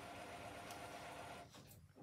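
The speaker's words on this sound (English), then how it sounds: "I'm sorry if you hear my printer in the background." A printer runs in the background of a room, a faint steady mechanical whir with a brief shift in tone near the end.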